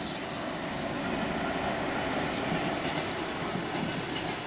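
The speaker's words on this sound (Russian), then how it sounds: "Поезд едет, пофигу" A train rumbles past in the Bleach Brave Souls mobile game, a continuous loud roaring wash of rolling noise that stays steady from start to finish with no talk over it.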